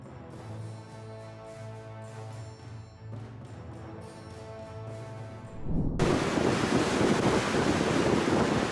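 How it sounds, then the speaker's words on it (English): Storm surge from Cyclone Tam crashing into the Auckland coast, with a dense roar of wind and pounding waves that abruptly grows louder and fills the whole band in the second half. "Storms surge from Cyclone Tam floods into Auckland, damaging piers and driving powerful waves across the entire coastal area"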